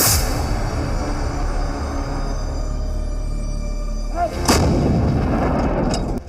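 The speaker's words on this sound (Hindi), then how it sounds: "तो दूसरी तरफ भारतीय सेना ने भी भारी तोपों का इस्तेमाल शुरू कर दिया।" Heavy artillery guns of the Indian Army fire during the Kargil war. A deep, continuous rumble of gunfire rolls throughout, broken near the end by a sharp, louder report. No voices are heard.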